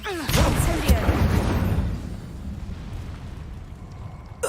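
An Incendio fire spell is cast in the Hogwarts Legacy video game, a loud whooshing burst of flame that swells at once, crackles, then fades into a rumbling tail.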